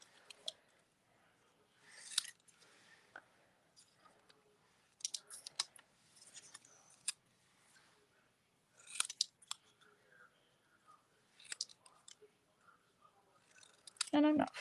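Scissors fussy-cut paper pieces for a stamped card, giving a run of crisp close snips and rustles in uneven bursts with quiet gaps between them, and a louder handling noise at the very end.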